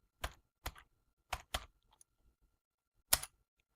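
Several short, separate key taps on a computer keyboard, typed in a quiet room during work in an Excel 2007 spreadsheet. They come in a loose, uneven rhythm, close and faint, with no talk.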